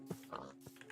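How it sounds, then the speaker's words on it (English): A Minecraft pig gives a couple of short, low oinking grunts in quick succession, quiet and brief against a faint background. "There's a lot of pigs around here."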